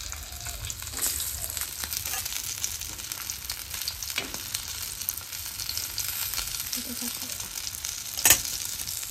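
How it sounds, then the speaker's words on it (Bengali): Dried red chillies fry in a pan, giving a steady, soft sizzle and crackle throughout with a brief sharper clink near the end, with no voices. "লঙ্কাগুলো ভাজবো।"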